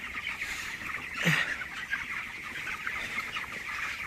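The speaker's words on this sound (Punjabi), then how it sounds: "ਮੁਰਗੇ ਦੇਖੋ ਮੁਰਗੇ ਦਾਣਾ ਖਾਂਦੇ" Young 22-day-old chickens cluck softly while eating feed, with a steady murmur of the flock and one louder cluck standing out near the middle, heard close and without talk.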